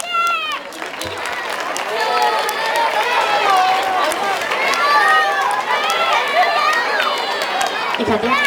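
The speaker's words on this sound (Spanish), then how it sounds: "rebem amb un fort aplaudiment als alumnes de 5 anys" Applause and excited cheering from a crowd welcoming five-year-old pupils at a school end-of-year celebration, a steady loud wash of clapping mixed with high children's shouts throughout.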